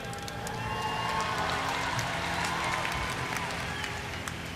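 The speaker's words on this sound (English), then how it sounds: "isn't this a great crowd?" A large crowd at a live event in Philadelphia applauds, a continuous broadband rush of many hands clapping at a steady loudness with a faint crowd murmur underneath.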